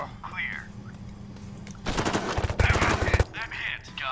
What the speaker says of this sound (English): we've alerted people to the sound of our gunfire